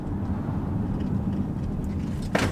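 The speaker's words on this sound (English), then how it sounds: "So we're going to hit the brakes right now." A 2023 Chrysler Pacifica Limited AWD S minivan hums with a steady low road and engine rumble from inside the cabin during a hard braking test, ending in a brief louder scuff or thump.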